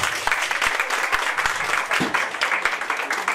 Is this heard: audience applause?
yes